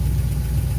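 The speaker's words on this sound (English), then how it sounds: "we have our truck running. We have a knock, but we have great oil pressure." A 1948 Chevy pickup with a 1967 Corvette 327 engine idling with a known knock, heard as a close, loud, steady low rumble with a pulsing, uneven texture for under a second.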